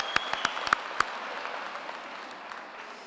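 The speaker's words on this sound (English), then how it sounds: "we can give another hand of applause for the youngest female PhD graduate in Africa" Graduation audience at a Qwaqwa ceremony applauds the youngest female PhD graduate in Africa: a few sharp, close individual claps at the start, then a thinner, softer wash of scattered clapping trailing off.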